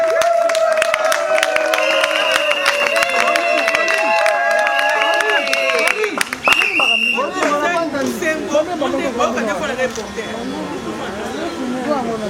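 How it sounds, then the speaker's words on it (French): Guests at a civil wedding ceremony clap and cheer for the groom, with high, sustained voiced cheers and calls over a continuous bed of applause and crowd chatter that grows busier and more mixed partway through. "Applaudissez pour papa Joël"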